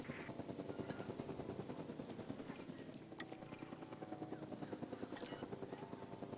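A helicopter in Jurassic World Evolution 2 airlifts a dinosaur, its steady rotor thump pulsing fast and even throughout, with occasional brief game effects cutting across it.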